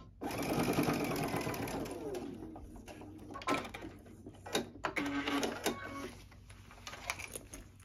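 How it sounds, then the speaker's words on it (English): Sewing machine stitches down a zipper, a close, steady mechanical chatter for the first seconds that then breaks into shorter runs and clicks, moderately quiet with no clear talk. "I'm going to sew all the way down, get to the bottom"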